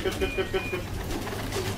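Racing pigeons arriving at a breeder's loft coo in a short series of soft, repeated calls, fairly close, over a steady low background hum with some faint voice.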